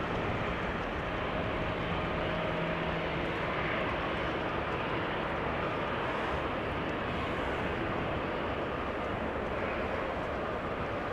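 Steady broadband roar of a jet airliner leaving Amsterdam Schiphol for Athens, a sustained engine rumble that holds constant throughout with no talk over it.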